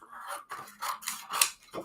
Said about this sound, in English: Where did I put my scissors now?